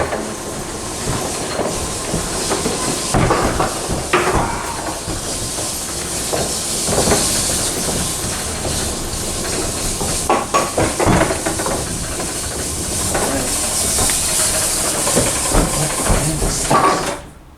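A former Otis pull-the-rope overhead traction freight elevator runs with a loud, steady mechanical rumble and hiss, broken by irregular clanks and rattles of its cab and gear throughout.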